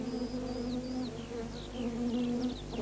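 Honeybees buzzing steadily close by inside a hive, with thin high chirps drifting in and out over the continuous drone.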